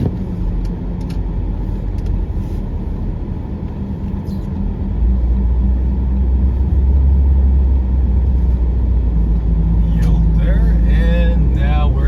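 Cars and trucks roll along a snowy Toronto highway at rush hour, a continuous close rumble of traffic that swells partway through, with people talking over it.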